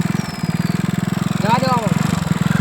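Two motorcycles ridden together along a rural road, their engines droning steadily and close throughout, with a pulsing low rumble and a brief rising rev midway.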